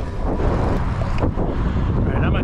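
Wind rushing across the microphone while riding a bike along the Santa Ana River Trail, a steady, loud broadband roar that stays continuous throughout with slight gusting swells.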